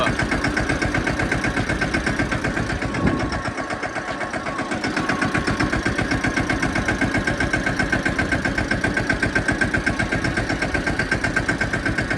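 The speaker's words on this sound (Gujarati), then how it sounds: "હું ને રામભાઈ ભાઈ એનું ટ્રેક્ટર લઈને નીકળી ગયા ઘર બાજુ" A diesel tractor engine chugs steadily at idle, a loud rhythmic knocking that continues without a break and briefly dips once.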